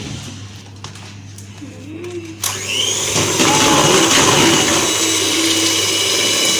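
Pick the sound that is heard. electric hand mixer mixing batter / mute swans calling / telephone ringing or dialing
electric hand mixer mixing batter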